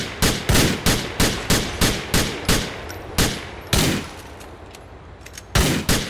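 Rapid gunfire in Grand Theft Auto IV, a string of about eleven sharp, loud shots at a steady quick pace with brief pauses, close and alone without talk.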